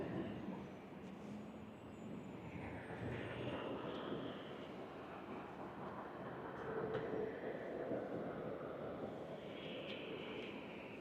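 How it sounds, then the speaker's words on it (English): Airbus A350-1000 jet airliner taking off from runway 25 right, heard as a distant, steady engine roar with a slowly shifting whine, faint and continuous with no voices. "A350-1000, taking off 25 right."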